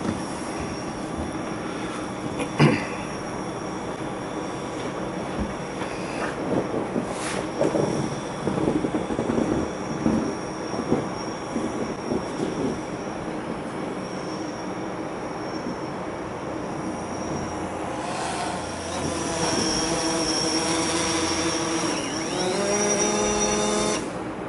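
A DJI Phantom 4 quadcopter flown indoors in a house gives a steady, loud whining buzz of spinning rotors that wavers in pitch and swells slightly toward the end.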